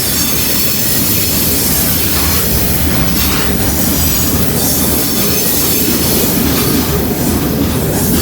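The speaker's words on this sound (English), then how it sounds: "I think they've combined the coil train into a mixed manifest." A mixed manifest freight train with coil cars rolls past close by, its loud continuous rumble carrying wheel clatter and occasional high squeals from the rails, with no voices.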